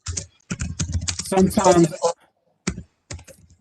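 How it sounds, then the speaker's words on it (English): Rapid clicks of typing on a computer keyboard come in short bursts and scattered single taps, with a person talking briefly over part of it. "I can hear you typing way over there"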